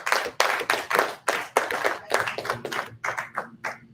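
A small congregation claps at a religious Torah service, giving a round of applause in quick uneven hand claps that are fairly close and modest in level, tapering toward the end.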